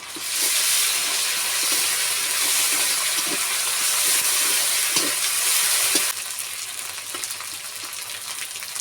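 Chili paste frying and being stirred in a pan, with steady loud sizzling and hiss throughout and soft scraping stir strokes, easing slightly in the last few seconds.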